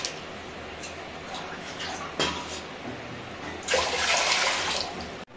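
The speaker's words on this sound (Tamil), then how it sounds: "நான் 6 கப் அளவுக்கு தண்ணி சேர்த்துக்கிறேன்" Water pours and splashes into a vessel of rice flour for coconut milk kozhukattai, with a short burst and then a louder, longer stream near the end.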